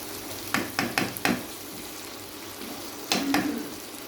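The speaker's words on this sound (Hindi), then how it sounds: "अब हम कीमे को अच्छी तरह भूनेंगे।" Mutton keema being fried in a karahi with green chillies, a steady low sizzle broken by several sharp scraping stirs near the start and another pair of stirs toward the end, with no talking.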